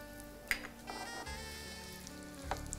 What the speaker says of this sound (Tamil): இப்போ தீயை கொஞ்சம் கூட்டி முந்திரி வந்து இளம் வறுப்பாக வறுபடணும்.